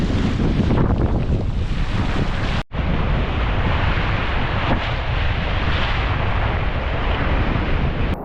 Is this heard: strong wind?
yes